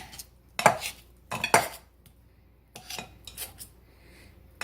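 A knife cuts through softened cream cheese and butter in a home kitchen while making a cake, giving a few soft scraping and tapping strokes near the microphone with short pauses between them.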